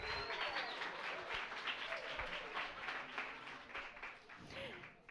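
A crowd at a Université de Sherbrooke psychology event applauds graduate students with soft, sustained clapping, while a few whistles and faint voices rise through the ovation.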